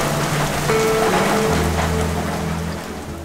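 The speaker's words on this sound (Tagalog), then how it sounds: "Muli na naman bumuhos ang ulan." Heavy rain pouring down on an outdoor camp area with a pit fire and bar during an overland trip in Sagada, Philippines: a loud, steady roar of rain drumming on surfaces, with low rumbles underneath.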